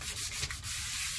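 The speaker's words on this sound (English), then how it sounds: "All right, so we'll go ahead and do some sanding here." A sponge sanding pad rubs back and forth across an oak cabinet door, a close, continuous gritty scratching with no pauses.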